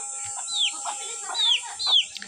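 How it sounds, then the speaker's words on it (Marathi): A village hen's chick makes a few short, rising chirps and soft clucks with pauses between them, fairly close against quiet surroundings. "आमच्या कोंबडीचं पिल्लू।"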